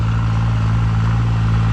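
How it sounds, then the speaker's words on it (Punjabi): A modified 3630 tractor engine strains hard across a dry field, giving a close, loud, continuous low growl with an even pulse, while faint voices sit beneath the engine noise. "ਟਰੈਕਟਰ ਤਾਂ ਪੂਰਾ ਜ਼ੋਰ ਮਾਰ ਰਿਹਾ ਖੇਤ ਤੇ ਜਿਆਦਾ ਸੁੱਕਾ ਇੰਜਣ ਦਾ ਪੂਰਾ ਜ਼ੋਰ ਲਾ ਰਿਹਾ"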